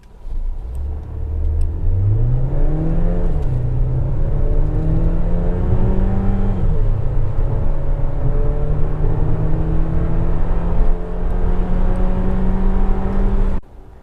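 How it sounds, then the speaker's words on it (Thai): A Mercedes-Benz GLA 200 AMG Dynamic in comfort mode accelerates from 0 to 100, its engine note climbing smoothly through gear changes. A steady, close drone holds for about fourteen seconds, then cuts off abruptly, with no voices. "เดี๋ยวเรามาลองอัตราเร่ง0ถึง100 ในโหมดคอมฟอร์ตนะครับ"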